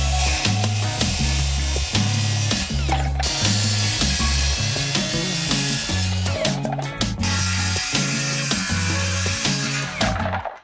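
Power saw cutting pieces of wood for a faux apothecary shoe cabinet build, running loud and continuously with a steady motor whine and changing cutting tones that rise and dip as the blade works through the boards.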